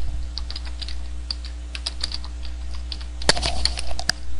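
A computer keyboard is typed on in short, irregular bursts of crisp clicks close by, over a low steady hum, with a slightly louder cluster of keystrokes toward the end and no talking.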